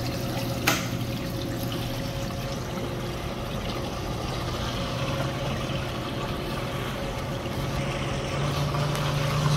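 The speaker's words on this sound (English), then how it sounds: "It's going through a dump cycle." An ice machine that is low on refrigerant drains water through its dump cycle, with a steady trickling, gushing flow running unbroken for several seconds at close range.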